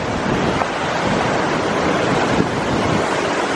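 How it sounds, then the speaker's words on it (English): Boulder Creek in Eldorado Canyon, Colorado, running high and gushing, a steady close roar of rushing water with broadband wind-like noise and no voices. "I don't think I would want to go tubing or anything in there at this point. It's gushing way too much."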